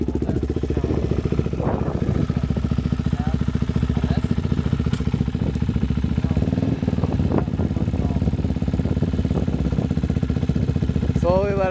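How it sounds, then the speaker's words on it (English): A dirt bike engine runs steadily in first gear on very little throttle, a loud, even, low putter that holds throughout while people talk over it. "So give it very little gas, alright? So put it in first gear."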